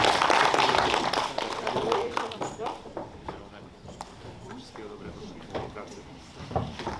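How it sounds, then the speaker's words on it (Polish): Applause for Mr Robert Powichrowski, from a gathered crowd at a celebration of the 150th anniversary of the first train's arrival in Olsztyn, dense at first, then thinning and fading as people talk. "Brawa dla Pana Roberta, gratulujemy."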